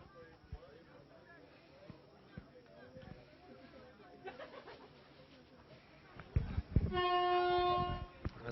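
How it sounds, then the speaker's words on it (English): A hooter sounds to end the half at a rugby league nines match, a loud sustained tonal blast near the end over commentary and crowd noise. "As the hooter goes in the background"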